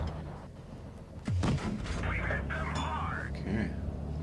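A Pz.III German tier IV medium tank cannon fires in World of Tanks Blitz, one sharp booming shot followed by ringing battle effects, with someone speaking over the game sounds.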